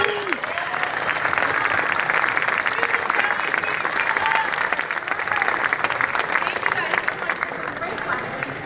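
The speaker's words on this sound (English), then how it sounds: "Can we get a round of applause for our panelists," A crowd at an election debate applauds its panelists with loud, sustained clapping, a few voices and cheers mixing in across the steady ovation.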